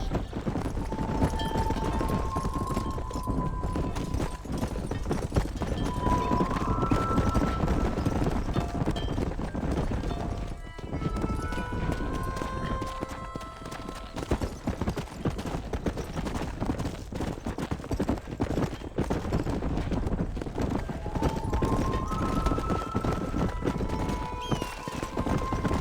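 Horse hooves clip-clop at a steady gallop in the video game Red Dead Redemption, continuous and fairly loud throughout, mixed with game sounds and occasional distant gunfire and voices.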